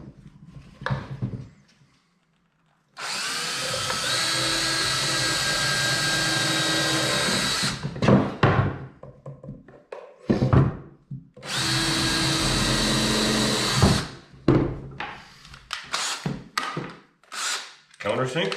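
A power drill drives screws into wooden blocks while building a lighthouse model: two long, loud whirring runs of several seconds each, broken up by clunks, handling noise and brief talking nearby.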